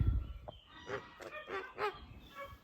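A few Kholmogory geese honk in a short series of nasal calls, fairly quiet and close, after a brief low thump at the start.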